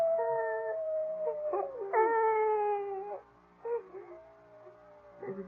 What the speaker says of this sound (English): I think it's that howling coyote that's bothering her